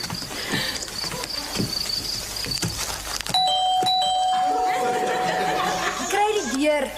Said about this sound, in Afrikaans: Die klokkie lei altyd ewe hard behalwe wanneer die batteries pap is.